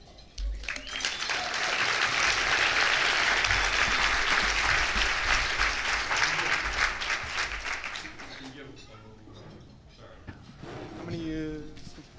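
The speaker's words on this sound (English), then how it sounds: "Can we give one more round of applause to Dila and all of the Open Arms staff?" Audience at a spring luncheon applauding, a dense wash of many hands clapping that swells and holds for several seconds, then thins out as talk and cheering take over.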